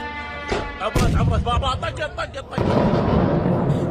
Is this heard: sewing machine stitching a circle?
no